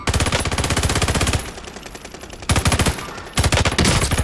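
Automatic gunfire in a shooting video game crackles in fast, loud bursts, with a short pause between the second and third bursts, all close and dominant with no talk over it.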